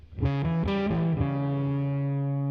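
A distorted electric guitar picks out a quick rising diminished triad arpeggio of separate notes, the last one ringing out and sustaining with effects-laden fuzz.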